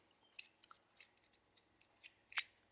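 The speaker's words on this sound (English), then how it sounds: "You unscrew the handle" Godfather safety razor handle being unscrewed: a run of faint, small metallic clicks and light scrapes, closing with one sharper, louder click, with no voices.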